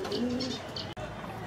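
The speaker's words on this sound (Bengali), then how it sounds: "চলুন পায়রাটাকে ছেড়ে দেখে নিই" A pigeon with a dark tail, just released, gives soft repeated coos against a quiet room, faint and close, with a sharp brief cut in the middle.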